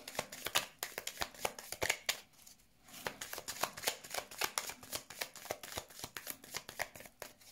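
Tarot cards being shuffled for a card reading, a close, steady run of crisp riffling snaps with a brief pause midway, no voices.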